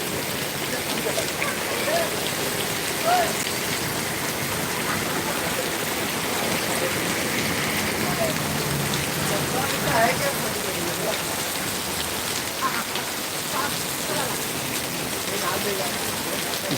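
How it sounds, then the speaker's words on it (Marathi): Heavy monsoon rain pours down steadily in Sangameshwar, Ratnagiri, Konkan, in a dense, continuous hiss, with faint voices now and then beneath the downpour. "खतरनाक पाऊस पडतोय मित्रांनो"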